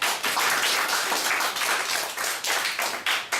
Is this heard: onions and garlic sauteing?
no